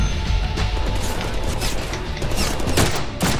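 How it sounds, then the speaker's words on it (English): A dense, loud barrage of blasts and gunfire-like bursts in the Deadpool video game, continuous crashing impacts with no pause for several seconds. "Whoa! Explosions."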